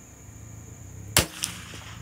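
A single sharp crack from a CZ 457 Varmint rifle fired at a target, loud and close against a quiet background hum, followed by a faint echo or distant impact a moment later.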